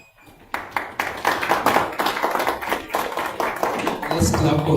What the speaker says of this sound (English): Let's clap for him again and again.